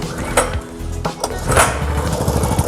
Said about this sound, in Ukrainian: Тепер заводимо ланцін.